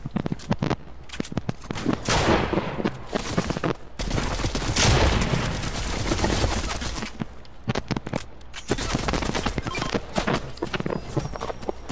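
Rapid gunfire bursts in a Fortnite match, dense crackling volleys and single shots coming in waves with short gaps, loud and close throughout, with no talk over them.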